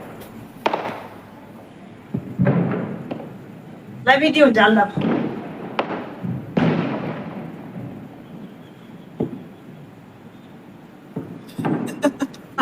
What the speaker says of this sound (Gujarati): આ ડગ ડગ કરે ફટાકડો